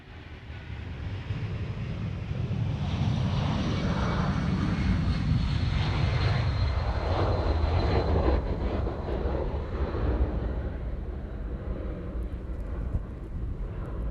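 A Qantas airliner arriving at Honolulu airport, its jet engine roar loud and steady throughout with a broad low rumble that slowly shifts as the plane passes nearby.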